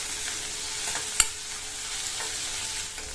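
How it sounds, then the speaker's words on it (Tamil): Chopped onions and green chillies saute with curry leaves in a pan, giving a soft, even sizzle broken by a few light stirring scrapes and one sharp clink of a utensil against metal, without speech. "இந்த வெங்காயம் மிளகாய் இது ரெண்டுமே நல்லா வதங்கி வரட்டும்."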